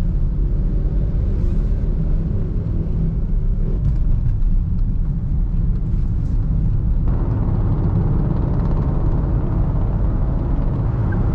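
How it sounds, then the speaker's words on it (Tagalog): Steady road and engine drone heard from inside a car on an expressway, a continuous loud low rumble of tires and motor with no talking. "Yung madidinig nyo is yung sasakyan lang, tsaka yung ingay na na-absorb niya mula sa kalsada."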